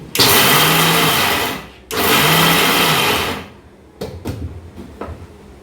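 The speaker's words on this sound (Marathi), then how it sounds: "मिक्सर चालू बंद चालू बंद करायचं" A mixer grinder grinding peanuts whirs loudly in two long bursts, stopping briefly between them, followed by a few short pulses and rattles.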